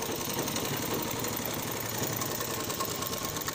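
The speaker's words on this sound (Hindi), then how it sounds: "ये देखिए इस तरीके से मैं सिलाई लगा रही हूँ" A sewing machine runs steadily and loudly while stitching a kurti, giving a continuous fast mechanical whir with no pauses.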